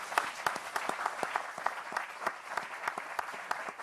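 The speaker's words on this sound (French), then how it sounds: "On peut l'applaudir." Audience clapping after a live French sailing broadcast guest's appearance, a steady patter of many hands with sharp individual claps, fairly close and sustained for several seconds with no talk.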